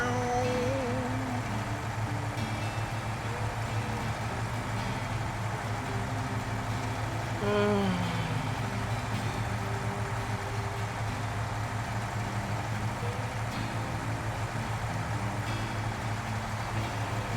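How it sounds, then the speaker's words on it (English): A truck engine in the off-road driving game SnowRunner idles with a steady, low, rumbling drone and makes a brief rev near the middle. It plays continuously and fairly close, with no talking over it. "Truck doesn't sound too bad. It doesn't sound amazing, but it doesn't sound bad."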